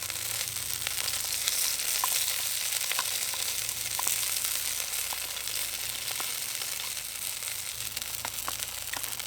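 A full English breakfast of sausage, mushroom, tomato and morcilla fries in oil on a Trangia mini stove, giving a steady, close sizzle with crackling pops throughout.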